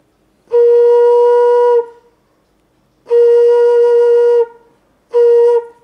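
Three sustained single notes blown on a flute by a beginner, each held clear and steady with gaps of silence between, the last one short.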